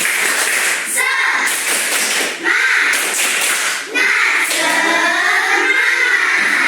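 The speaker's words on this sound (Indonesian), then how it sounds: "Tepuk semangat." Schoolchildren in a classroom do a rhythmic spirit clap, with patterned claps and taps under energetic group chanting in young voices, repeated in short, regular bursts.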